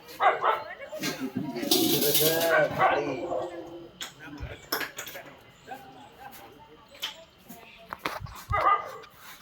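A dog at a home barks several times and gives high whimpers and yips, loud and close, with someone talking between and over the sounds.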